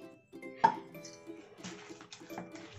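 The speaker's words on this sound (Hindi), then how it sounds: "थोड़ा सा पानी और ऐड करेंगे इसमें" Semolina batter for soft dahi vada being mixed in a bowl after more water is added, with a sharp clink of utensil against the bowl and soft wet stirring and scraping that carries on close by.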